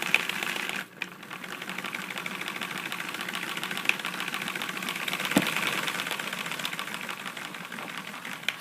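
Small Lego model diesel engine idling smoothly, a steady fast mechanical clatter running continuously at close range with one brief dip near the start, no voices.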